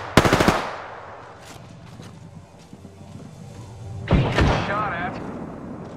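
Video game gunfire: a sharp, loud burst of rapid shots at the start, quieter game noise in between, then a second heavy burst of fire followed by ringing, warbling effects.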